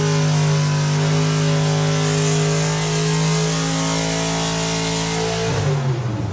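A drag racing car does a burnout at a UK drag strip, its engine roaring loud and sustained at full revs before the pitch drops toward the end.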